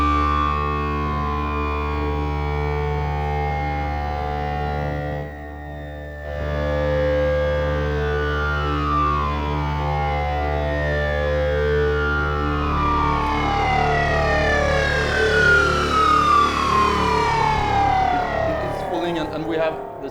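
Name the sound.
Shepard tones with shifting harmonics from Genie oscillators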